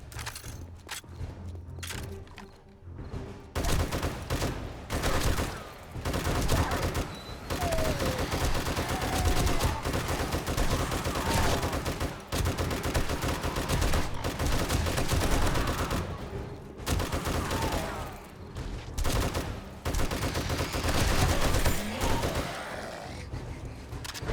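Dense, loud gunfire from 7.62 rifle rounds fills a battle in the game 7 Days to Die, sustained rapid bursts running almost without pause, with occasional grunts.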